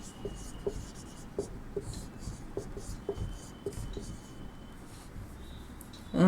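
Pen scratching across paper as an answer is written out by hand, a steady run of soft strokes and small taps, close and fairly quiet, with a brief louder knock at the very end.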